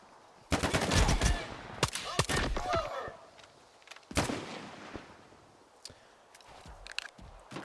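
Pistol gunshots in a video game: a few sharp, loud cracks spaced out over several seconds with echoing tails, mixed with footsteps and quieter clatter between shots.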